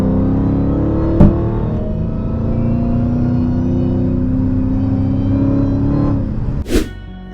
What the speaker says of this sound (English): That's 707 horsepower Hellcat.